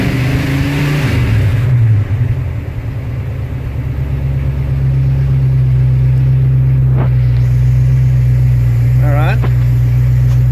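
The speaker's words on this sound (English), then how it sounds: "I wonder what happens if I rev it." A 1936 Buick engine with an overheating issue idles with a steady low rumble, then rises briefly in a short rev before settling back, heard close with a moderate voice in the background.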